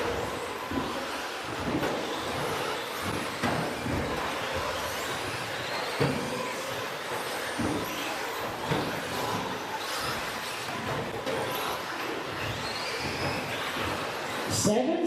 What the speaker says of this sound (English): Seven stadium trucks.